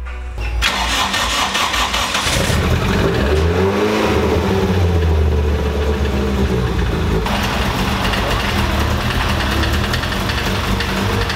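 A Toyota Corolla FX GT engine cranks and catches, then settles into a close, steady idle while warming up, rising in a couple of revs midway before falling back to a smooth idle.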